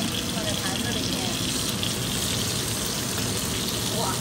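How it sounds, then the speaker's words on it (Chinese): A starch-coated pork chop for Shanghai scallion braised pork chop noodles, fried golden on both sides in a pan, giving a loud, steady, dense sizzle that fills the whole clip. "这个肉已经煎到两面金黄了"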